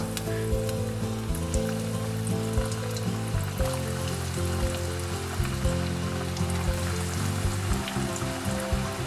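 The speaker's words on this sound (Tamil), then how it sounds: "இப்போது இது எல்லாத்தையுமே எண்ணெயில் போட்டு ஃப்ரை பண்ணி எடுத்துக்கலாம்" Rice and corn bites deep-frying in hot oil give a steady, fairly quiet sizzle, with low bubbling and a few louder pops near the start. No one speaks over it.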